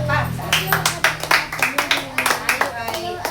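Hands clapping in a rhythmic, fairly regular beat at a charismatic prayer meeting, distinct sharp claps repeating roughly every quarter second over a murmur of voices.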